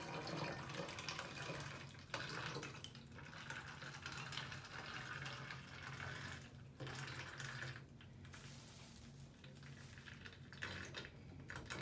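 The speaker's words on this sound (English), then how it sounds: "then you fill up the rest of the bottle with water." Water runs from a tap into a 2 liter plastic bottle, a continuous splashing rush that shifts in tone as the bottle fills, fairly faint and steady with brief changes in flow.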